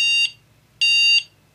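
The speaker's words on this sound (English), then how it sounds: "the objective is to be right on the threshold of where it starts to beep and where it stops to beep" A Lumber Wizard 4 woodworking metal detector gives two sustained electronic beeps, each about a third of a second long and spaced roughly half a second apart, against a faint low hum while the detector is tuned.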